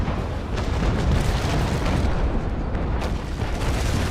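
Cannon fire from a sailing warship in the naval video game Naval Action, a loud, heavy rumbling boom that fills the whole few seconds without a clear break.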